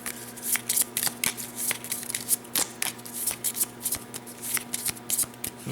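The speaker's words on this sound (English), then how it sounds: "We shuffle all available supplemental cards" A deck of supplemental cards for the board wargame Enemy Action: Kharkov is shuffled by hand, a close, brisk run of repeated riffling bursts and soft card slaps.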